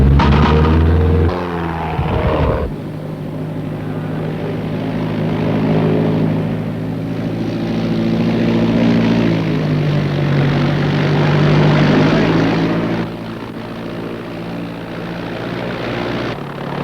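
A propeller airplane drones steadily and loudly as it flies in on approach to land, with the engine note shifting through the descent and a brief louder burst at the start.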